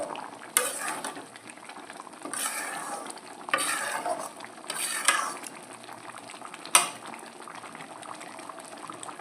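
Mango pickle is stirred in a pan, with soft scraping strokes and a few sharp utensil clinks over a faint bubbling simmer, quiet and close.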